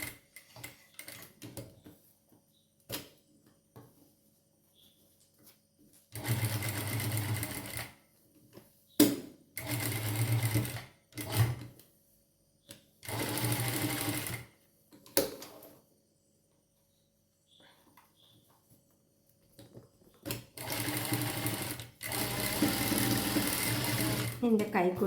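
Sewing machine stitching a lined garment, running in several separate loud bursts of fast needle clatter with silent gaps between, and someone talking in the pauses.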